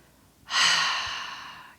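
A single long, steady breath is drawn during a strength and flexibility yoga pose, starting suddenly, loud and close, then slowly fading over about a second.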